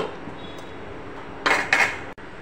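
Crab roast being stirred in a cooking pot, two short bursts of metal utensil scraping and clinking against the pot, fairly close, with a soft knock just after and a quiet kitchen background otherwise.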